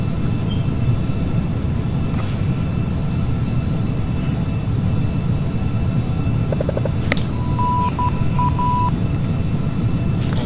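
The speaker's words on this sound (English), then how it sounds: "we're going to give it a little bit more throttle so that we hold at 170 knots" A Carenado Falcon 50 business jet in the Prepar3D flight simulator, with a steady, loud engine roar and rumble holding throughout, broken by a few faint cockpit clicks and short electronic tones.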